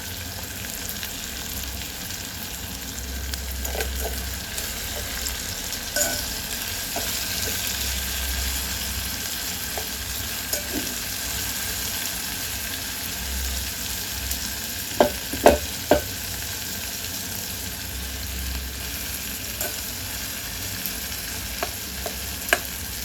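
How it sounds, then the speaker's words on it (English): Small omena fish fry in a pan while being stirred, giving a continuous sizzle with low scraping strokes and a few sharp utensil clicks. Close and fairly quiet, with no speech. "Let's give it around 2 minutes to heat up and stir, so that they can mix up"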